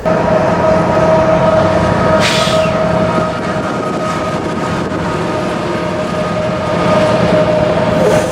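CSX M308, a freight train, rumbles past up close: a loud, steady roar of wheels and cars that holds for the full stretch with little change, and a faint tonal hum running through it.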